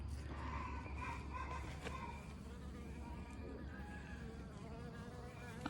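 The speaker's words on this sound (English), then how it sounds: "Now we'll walk to the bees. I love my bees." Bees buzzing around hives in a garden and orchard in northeast Texas, a steady close hum with individual insects droning past, some faint talk in the background.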